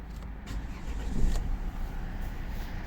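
A 2011 Volvo V50 2.0 D3 automatic diesel engine cranks and catches, swelling briefly into a low idle rumble that continues steadily, heard from close by inside the vehicle.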